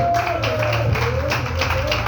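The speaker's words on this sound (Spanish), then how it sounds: "Dale un aplauso al Señor, pues." Church congregation clapping in an uneven rhythm, fairly close, with a sustained voice or tone and low hum running underneath.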